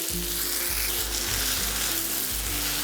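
Tomato masala for Jain chole simmers on a slow flame with a steady, dense sizzle and bubbling. Low thumps of stirring come every half second or so, close and with no talking.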